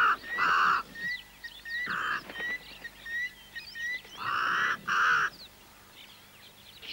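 A crow calls at a waterhole, repeating harsh caws in bursts at a steady interval, fairly loud and close, with other birds chirping faintly between the calls.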